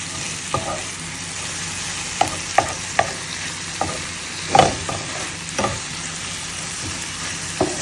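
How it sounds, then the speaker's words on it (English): Greens are stirred in a hot pan with red peppers and garlic until they wilt, for a creamy Tuscan chicken dish: a steady sizzle broken by scattered, close scrapes and clatters of the spoon. "We'll stir that around till that wilts up."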